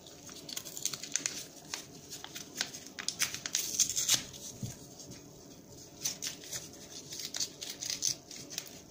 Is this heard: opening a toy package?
yes